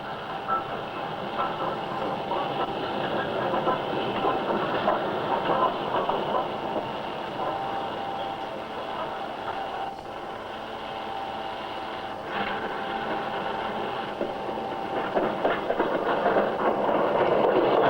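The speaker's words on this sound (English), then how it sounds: "However, a down train managed to struggle through." A train rumbles and labors along continuously through snow, its heavy engine droning with a faint clatter of wheels and no voices.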